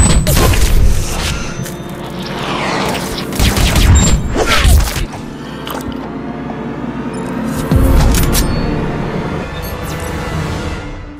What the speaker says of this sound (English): Turn the camera to focus on your enemy, then lock the shot.